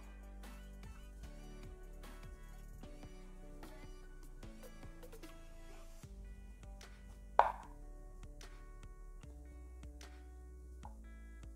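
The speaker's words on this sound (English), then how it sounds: "So you just get all this cut up into long strips first." A knife chops smoked brisket into long strips on a cutting board, making soft, quiet repeated taps with one sharper knock, over faint background tones and with no talking.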